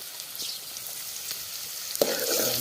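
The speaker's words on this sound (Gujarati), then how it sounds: "તેલ નખાઈ ગયું છે હવે ડુંગળી નાખી દીધી છે" Onion frying in hot oil, a close, steady hiss that swells into a louder crackling sizzle about two seconds in, with no speech.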